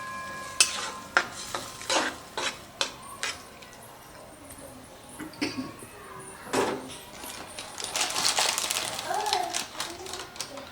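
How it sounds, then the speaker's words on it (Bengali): Onions with yogurt stirred in a pan for Rajasthani dahi pyaz, giving a series of scraping, clinking spoon strokes at close range, with a soft sizzle growing toward the end. "তো দইটা দিয়ে এটাকে নাড়াচাড়া করে দেব।"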